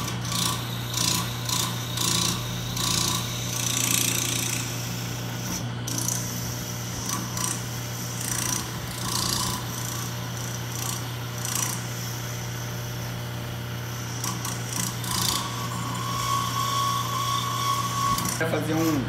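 A hand file works the tip of a wooden pin in steady rhythmic rasping strokes, close and fairly loud over a constant low mechanical hum, with speech in places.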